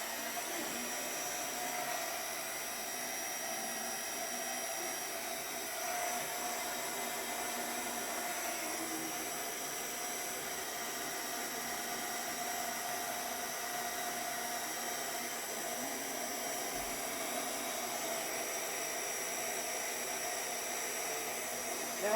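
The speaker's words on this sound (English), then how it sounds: "You can also use a hair dryer, but it doesn't work as well." A hair dryer blows continuously, a steady, loud whirring hiss with a faint motor whine, running unbroken from start to finish.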